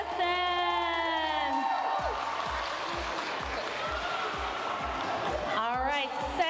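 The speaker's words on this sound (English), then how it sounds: "Another round of applause for Edison." Audience at a junior robotics competition awards ceremony applauds and cheers for an engineering notebook award, steady crowd clapping with whoops and a shouted voice at the start, a rhythmic thumping beat underneath, and more shouting near the end.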